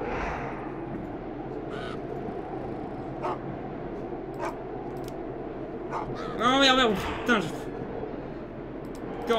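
Crow caws in the Boogeyman 2 horror game: a few sharp, harsh calls rising over a dark ambient background, with a louder burst near the end and a person talking faintly.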